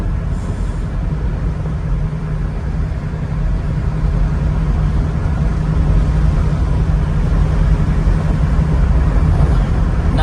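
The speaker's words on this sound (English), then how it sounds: "if you don't want it to be loud and shouty, you get it into 5th gear and all you get is wind noise" Inside a 302 V8-powered 1967 Ford Mustang hardtop cruising in fifth gear of its five-speed, steady wind noise and low road rumble fill the cabin evenly, with only a soft engine drone beneath.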